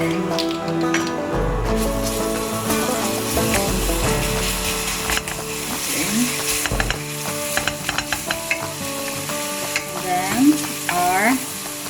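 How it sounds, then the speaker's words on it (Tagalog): Garlic sautéing in hot oil in a pan for sweet and sour pork, a steady close sizzle and crackle with occasional stirring scrapes, no talking. "let's heat a pan with a little oil, and then let's saute"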